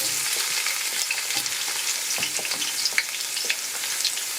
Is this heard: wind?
no